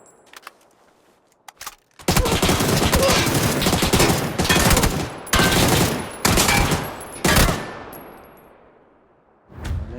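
DMR rifle fire in the PUBG video game comes as a series of loud, sharp bursts close together, separated by short gaps, with a final shot after a pause.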